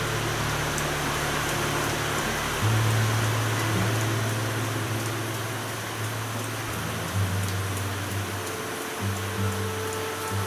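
Steady broadband rain falls throughout, a continuous hiss with low mechanical hum underneath and no clear individual drops.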